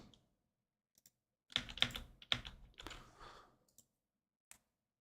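Computer keyboard keys pressed during a Minecraft game session, a quick cluster of close, crisp clicks and taps spread over a few seconds, with brief pauses before and after.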